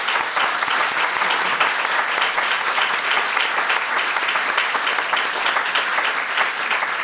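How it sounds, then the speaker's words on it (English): Steady applause from an audience at a school leavers' ceremony, many hands clapping continuously and fairly loud for about seven seconds with no talking over it. "Can we give her a round of applause?"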